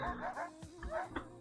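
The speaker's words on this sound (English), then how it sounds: "So much barking going on." A dog barks and yips a few times in short bursts nearby, with an occasional whimper mixed in, fairly clear and with no talk over it.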